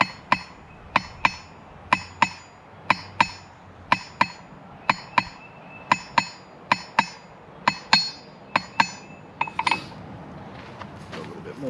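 Hammer striking the hot orange tip of a metal skewer on an anvil to draw a taper, with a steady run of sharp ringing blows about two per second, close and loud.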